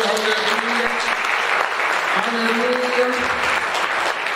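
Church congregation at a worship service clapping steadily, a dense, continuous wash of applause with voices and singing faintly mixed underneath.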